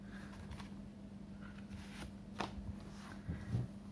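Tarot cards are shuffled and drawn by hand, soft quiet riffling and sliding with a few sharper snaps, close and faint over a steady low hum.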